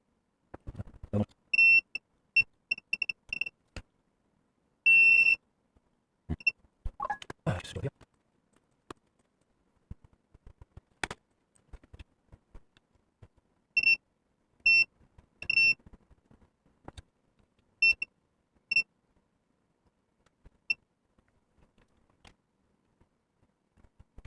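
A multimeter continuity tester on a broken Atari Lynx 2 gives repeated short, sharp electronic beeps in clustered bursts, among faint clicks and handling noise, with the beeps stopping and starting as the probes touch.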